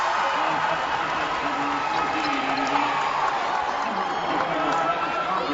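Crowd noise from cheering sections at a high school boys basketball state semifinal between Charles City and Galax, a steady roar of fans throughout the gym beneath commentators talking.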